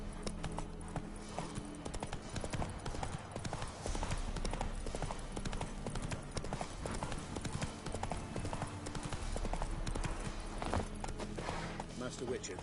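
Game horse Roach's hooves clip-clop steadily in The Witcher 3, a continuous even walking rhythm under music and ambient sound, fairly faint, with a voice speaking over it.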